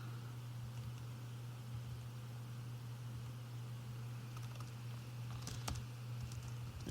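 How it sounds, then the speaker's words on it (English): Faint, scattered taps on a computer keyboard over a loud, constant electrical hum, with a few clearer clicks near the end. "I'm sure you guys noticed while I was typing"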